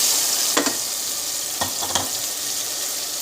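Browned onions and added tomatoes sizzle steadily in hot oil for a masala bhindi base, a dense frying hiss with a few spoon scrapes stirring through it, close and fairly loud, no talking.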